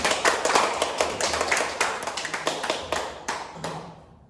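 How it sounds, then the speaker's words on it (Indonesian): A seventh-grade class claps together in a short round of applause, sharp irregular hand claps close by that thin out and fade toward the end. "Tepuk tangan untuk kita semua"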